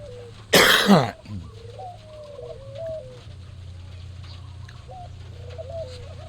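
Pet pigeons coo softly in a series of short, repeated warbling calls close by over a low steady hum, with a sharp cough near the start.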